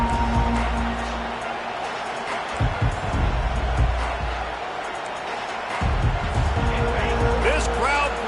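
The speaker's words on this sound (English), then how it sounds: "This crowd bringing the energy and noise early." Steady roar of a college football stadium crowd during Ohio State versus Iowa, a broad continuous wash of noise with swelling cheers, heard under play-by-play commentary throughout.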